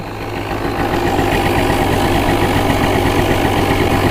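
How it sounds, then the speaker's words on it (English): A Honda ATC 250R three-wheeler sits idling, its engine giving a loud, steady low pulsing putter up close that holds even throughout, with no voices. "let's turn this idle down a bit."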